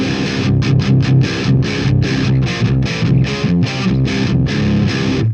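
Electric guitar played with a distorted crunch tone through a Crate XLP rackmount amp with the bright switch engaged, a loud, steady run of rhythmic strummed chords with short choppy gaps, heard alone.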